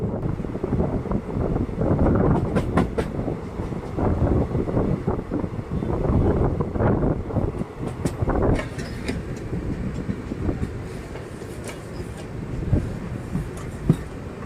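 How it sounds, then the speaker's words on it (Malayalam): Netravati Express, bound from Mumbai Lokmanya Tilak to Thiruvananthapuram Central, running past Payyanur railway station: a close, continuous rumble with sharp wheel clatters and wind buffeting that fades toward the end. "മുംബൈ ലോകമാന്യ തിലകിൽ നിന്നും തിരുവനന്തപുരം സെൻട്രലിലോട്ട് പോകുന്ന നേത്രാവതി എക്സ്പ്രസ് ആണ് അപ്പോൾ പോയിക്കൊണ്ട് നിൽക്കുന്നത്"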